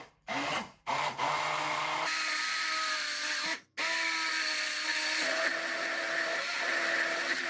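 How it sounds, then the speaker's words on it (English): A hand mixer whirs through raspberries and vanilla for low-carb raspberry jam. The electric motor drones steadily, with a few short stops and restarts, and no one talks. "Now we're just going to mix it with the hand mixer."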